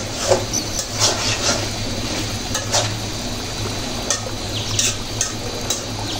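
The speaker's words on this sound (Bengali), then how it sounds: "কিছুক্ষণ পর পর এগুলো নেড়ে চেড়ে দিতে হবে যেন কড়াই কলাই লেগে না যায়" A spoon scrapes and stirs taro stolons (kochur loti) with shrimp cooking in a wok, giving soft, irregular scraping strokes over a steady low simmering hiss, close and alone.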